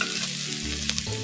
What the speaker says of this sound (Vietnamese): Sau đó mình cho hành tím băm vô.